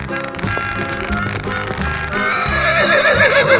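A horse neighs loudly in a 3D animal slide video game, a whinny over game sound effects and music with hooves and mechanical clatter beneath.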